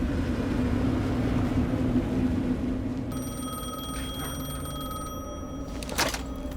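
A telephone rings in the video game Alan Wake 2, a steady electronic ring that begins partway through and continues over a dark, rumbling ambient background, with no speech.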